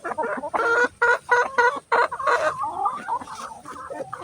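Hens and a rooster on a small egg farm cluck close by in a run of quick, loud, repeated bursts that trail off into softer, scattered clucks, with no one speaking.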